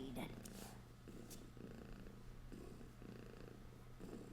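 A cat-like purring sound effect from the Purring Machine in an Ultrasaur game, a steady low rumble with soft rhythmic pulses that continues throughout.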